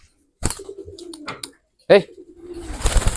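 Doves coo in a cage where a pair is nesting with an egg, giving a few close, throaty coos and short calls, with people talking nearby.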